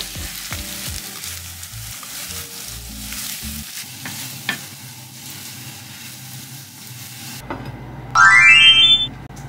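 Potatoes with eggs fry in a pan in a home kitchen, a steady sizzle with occasional utensil knocks, ending with a short electronic chime.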